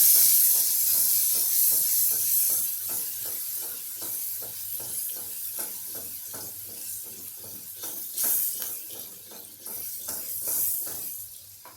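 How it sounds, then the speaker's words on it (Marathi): Puffed rice for girmit being mixed with tamarind-jaggery chutney gives a close, rhythmic rustling and scraping, roughly two strokes per second, steady throughout with no talk. "आता आपण हे सगळं छान मिक्स करून घेऊया"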